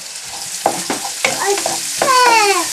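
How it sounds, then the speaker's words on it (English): Pancetta fries with softened asparagus and mushrooms in a pan, a close sizzle punctuated by clacking stirs and scrapes, with the hiss swelling louder toward the end. "So I'm going to add in the pre-cooked pancetta."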